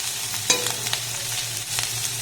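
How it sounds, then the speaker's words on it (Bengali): Onion and chilli stirred and lightly fried in a pan, a steady sizzle with a sharp scrape of the spatula near the start and softer stirring scrapes after, no voices. "পেঁয়াজ আর লঙ্কাটাকে এবার একটু হালকা নাড়াচাড়া করে ভেজে নেবো"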